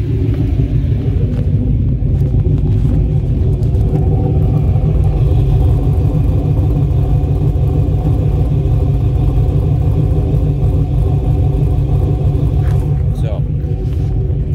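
Cammed LT 5.3 V8 truck engine idling, heard from outside the vehicle: a loud, deep, continuous rumble with a choppy, lumpy pulse that holds steady for the whole stretch.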